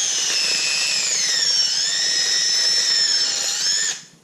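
A handheld power drill bores a bit through a part for a lawn striping roller, a loud, close, continuous high whine that holds for about four seconds before cutting off.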